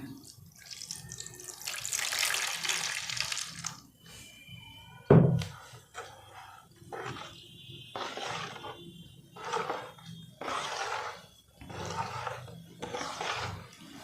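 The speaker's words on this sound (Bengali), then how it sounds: "বাকি জলটা দিয়ে দেবেন।" Remaining water poured into a liquid detergent mixture of caustic and acid slurry, giving a rushing splash followed by several shorter bursts of pouring separated by pauses.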